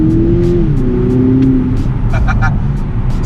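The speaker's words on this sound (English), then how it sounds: "Straight away, you've got the fantastic turbo blow-up valve noise." 2020 BMW Z4 G29 with its automatic gearbox kicked down under full throttle: a loud, close engine drone with the pitch shifting, then a brief sharp hiss from the turbo blow-off valve, under a voice.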